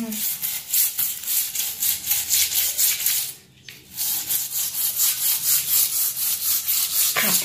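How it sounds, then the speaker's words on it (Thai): A brush scrubs dirty stains in a bathroom with quick, rhythmic back-and-forth strokes. The close, gritty rubbing pauses briefly midway, then resumes at the same brisk pace. "เดี๋ยวเรามาใช้แปรงขัดกันนะคะ"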